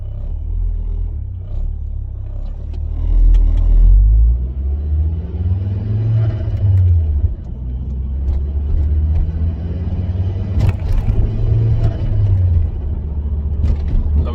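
A heavy car engine rumbles loudly and revs up and down in several rising and falling sweeps, close by, with no speech.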